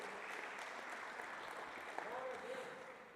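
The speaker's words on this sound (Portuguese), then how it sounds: "Vamos aplaudir o Senhor por isso?" A church congregation claps together during a sermon, steady applause that sounds faint and somewhat distant, with a voice speaking over part of it.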